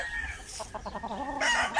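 A fighting gamecock crows loudly and close by, with a rising, wavering call followed by sharp clucks. No one speaks over it.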